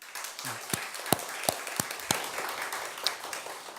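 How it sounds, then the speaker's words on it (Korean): Scattered clapping from a church congregation after a testimony, with sparse separate claps rather than a dense roar, moderately loud in a reverberant hall with no talk over it. "다시 한번 박수 부탁드립니다."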